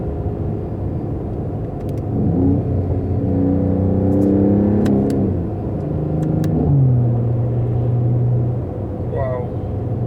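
A 2020 Mercedes-AMG GT 4-door coupe revs its engine, the exhaust note climbing and falling in a few swells over a constant loud rumble of road and engine noise.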